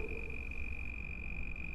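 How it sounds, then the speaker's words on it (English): The distance counter in the video game Content Warning gives off a steady, thin electronic tone that holds unbroken over a low rumbling background, faint and without voices. "The distance counter, that's what that noise is."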